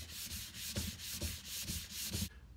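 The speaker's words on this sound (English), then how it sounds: "Wet sanding should be all set." Rhythmic back-and-forth strokes of wet sanding on a table surface, about five passes, close and steady, then stopping.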